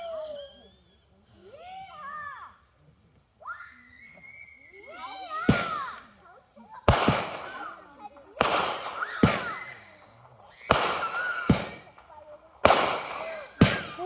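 Canada Day fireworks bursting in a series of loud, sharp booms, about eight explosions in the second half, following quieter whistles and voices of people talking outdoors.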